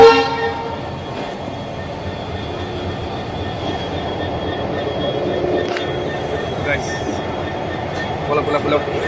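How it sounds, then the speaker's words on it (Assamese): From inside a train slowly pulling out of a station in Guwahati, a steady rolling rumble of carriages runs throughout, with faint metallic clanks and a distant horn-like tone. "ফাইনেলি ট্ৰেইন ষ্টাৰ্ট হৈ গ'ল, যোৱা আৰম্ভ দিলে"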